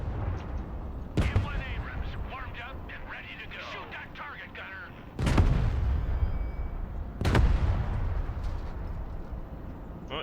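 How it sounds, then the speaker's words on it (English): Heavy booms from an M1 Abrams tank main gun in the Broken Arrow war game: two loud, sharp blasts with rolling low tails about two seconds apart, following a stretch of game battle noise and voices. "M1 Abrams warmed up and ready to go. Shoot that target, gunner."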